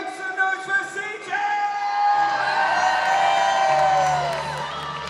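An audience at a cosplay masquerade on stage cheers and whoops for CJ, a loud crowd roar swelling and holding with shouts layered through it, while an amplified voice speaks over the start.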